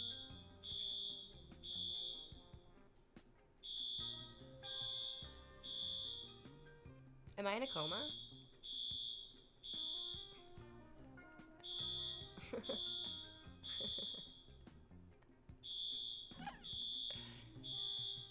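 A smoke alarm chirps in a repeating pattern of short, loud, high beeps in pairs and groups throughout, with a person talking between and over the beeps indoors.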